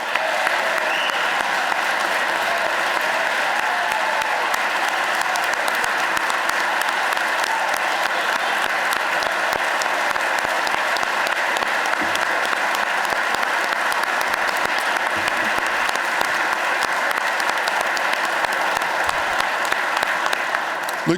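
Sustained audience applause at a state governor's budget address in Pennsylvania, a large crowd clapping steadily and densely for over twenty seconds, loud and even, with no pause or build.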